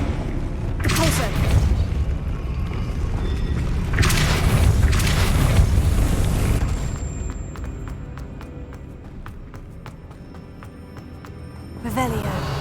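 Depulso spell cast in a Harry Potter video game, a heavy booming blast that rumbles for several seconds and then trails into lighter clicks and ticks, with a final burst near the end.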